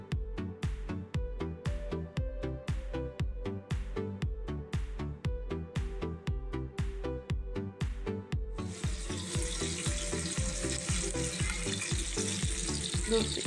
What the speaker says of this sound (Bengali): মাছের কিন্তু 2 পিঠই ভালো করে ভাজা হয়ে গেছে